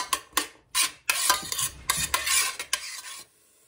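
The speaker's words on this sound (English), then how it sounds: "And stir that around. And I'm going to let the onions cook for 1 or 2 minutes." Onions stirred in a soup pot, several quick scraping sweeps of a spoon with a light sizzle underneath, close and fairly loud, ending abruptly.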